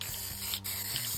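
A spray can hisses steadily and close up while a Redcat Everest RC car body is repaired with yellow drywall mesh, a continuous airy spray with a brief pause midway.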